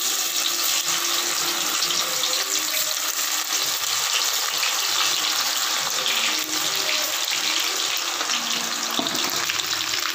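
Marinated cauliflower pieces frying in hot oil, giving a steady, close, loud bubbling sizzle that holds evenly throughout with no talking.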